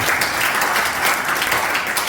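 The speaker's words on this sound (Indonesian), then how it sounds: "Kasih tepuk tangan dulu buat Tuhan Yesus" Congregation applause at a church first-anniversary service, a dense, steady wash of many hands clapping together, fairly loud and close, with no voices over it.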